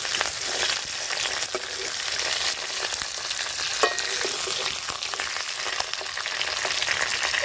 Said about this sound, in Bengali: মাছগুলো আমি প্রায় 10 মিনিট ধরে ভেজে নিয়েছি